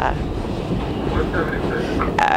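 A half-empty subway car riding on rails gives a steady, loud rumble with faint rattles throughout and a brief metallic squeal near the end.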